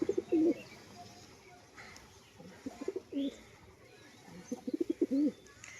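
Pigeons coo close by in soft, low, throaty phrases. Short bursts come at the start, in the middle and toward the end, with quiet gaps between them.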